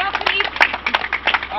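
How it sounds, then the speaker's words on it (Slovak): Audience applause at a live event, with scattered hand claps mixed into voices and cheering, loud and close throughout the short burst. "Poprosím ešte raz potlesk."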